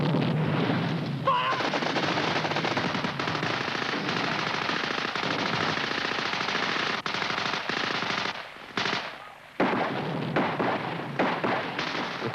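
British Army cover group opens sustained machine-gun fire during a fighting patrol assault, a loud, dense continuous rattle of automatic bursts with brief dips near the end, no talk over it.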